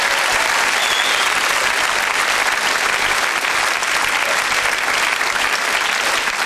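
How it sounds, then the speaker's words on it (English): Steady, dense applause from a large television studio audience, loud and continuous without pause for several seconds. "Give him another round of applause."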